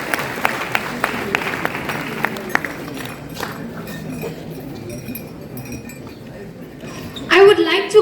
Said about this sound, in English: Can we hear a big round of applause for her?